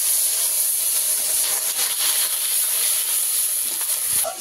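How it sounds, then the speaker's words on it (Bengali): Ground onion paste drops into hot oil left from frying pomfret with whole garam masala, giving a loud, close, continuous sizzling hiss that holds steady for a few seconds. "বেটে রাখা পেঁয়াজটা দিয়ে দেব।"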